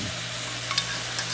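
Sauce sizzles steadily in a hot frying pan while crispy chicken is stirred through it, a soft continuous frying hiss up close.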